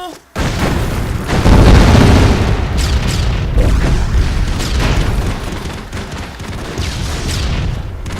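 Rocket explosions in the action game Broforce, a rapid run of loud booming blasts that merge into a dense, roaring rumble lasting the whole stretch, with sharper bursts popping through.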